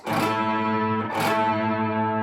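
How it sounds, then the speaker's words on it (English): Two strummed, distorted electric guitar chords ring out in a short psychobilly rock riff, with the third string deadened by muting. "we get a nice dead sound on the 3rd string"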